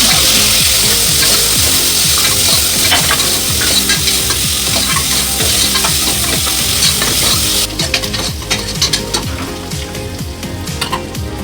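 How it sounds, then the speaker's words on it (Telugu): Onions frying in a pan with spices and chillies while being stirred, a steady loud sizzle with continuous scraping strokes throughout. "ఆనియన్స్ కూడా గోల్డెన్ కలర్ వచ్చినంత వరకు ఫ్రై చేసుకోవాలండి"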